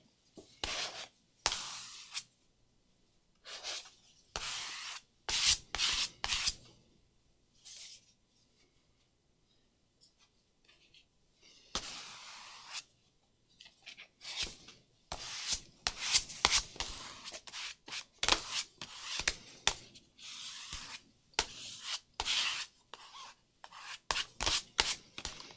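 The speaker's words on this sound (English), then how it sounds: "let's see if we can just kind of scrape some of this paint on here." Paint is scraped onto a journal page in repeated dry rasping strokes, short bursts in irregular clusters separated by quiet pauses, close and fairly soft.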